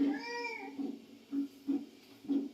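A cat meows in one drawn-out wavering call, then gives four shorter mews at a steady pace, close and moderately loud with no talk over them.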